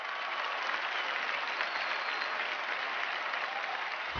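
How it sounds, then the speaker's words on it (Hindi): A studio audience on a comedy show breaks into loud, dense, continuous applause to welcome actress Sonakshi Sinha, a steady wash of clapping with no letup. "जोरदार तालियों से स्वागत कीजिए for the beautiful and stunning Sonakshi Sinha"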